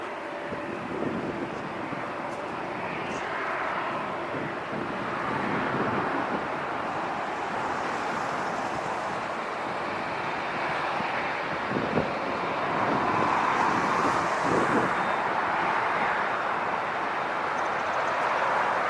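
Airliners departing LAX, heard from a bridge near the airport, a distant broad jet roar rising and falling under steady wind noise on the microphone.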